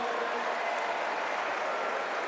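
An audience at a Cesta Punta (Basque pelota) evening tournament applauding, a dense, steady wash of many hands clapping that stays loud throughout.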